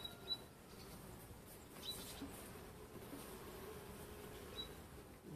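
Faint, steady buzzing of pure Caucasian honey bees just out of winter at an opened hive, a soft continuous hum close by with occasional brief louder buzzes.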